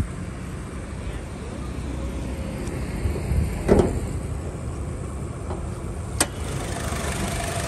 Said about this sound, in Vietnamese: đây em sẽ mở máy mọi người xem phần máy nhé